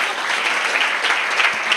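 A church congregation claps through a Sunday service, a steady full round of applause from many hands, close and fairly loud, with no voices over it.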